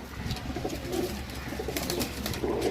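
A sturdy pigeon coos in soft, low repeated calls, close by, over a steady murmur of background noise.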